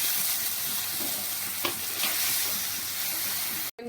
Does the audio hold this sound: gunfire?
no